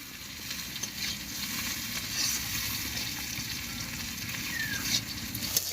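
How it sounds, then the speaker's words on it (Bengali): Onions sizzle steadily in a kadai on a village kitchen fire, a soft, continuous crackling fry with faint scraping stirs now and then, heard alone without talk. "এই যে কড়াইতে পেঁয়াজ ভাজা হচ্ছে,"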